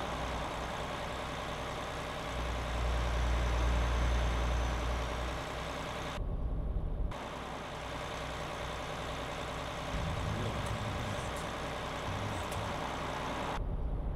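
A large truck engine idles nearby with a low steady rumble, occasional swells and brief cutouts, and no voices.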